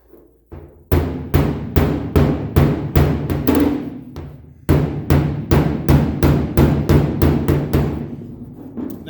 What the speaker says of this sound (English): That's what you're hearing is the horn of my general purpose dolly.